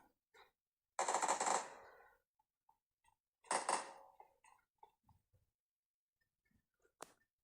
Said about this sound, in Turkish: Oy birisi sıkıyor.